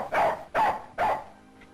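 A dog barks three times in quick succession, loud and close, with a brief fading tail and no voices.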